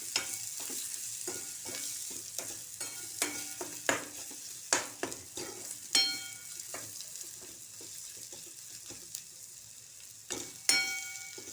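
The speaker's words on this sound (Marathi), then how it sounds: "आता हे चांगलं परतून घ्यायचं गॅस स्लो करून" Dry coconut masala paste being sautéed on a low flame, a gentle steady sizzle broken by repeated spoon scrapes and taps against the pan, close up and without talk.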